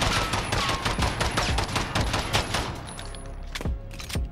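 Rapid pistol gunfire from a Glock fitted with no compensator or muzzle brake in Modern Warfare, a dense, loud burst of shots with recoil uncontrolled, ending in a few separate cracks.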